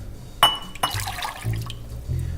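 A cup of water poured into a container while making fresh peach pie filling, with short splashing gushes and a glassy clink among intermittent low kitchen sounds.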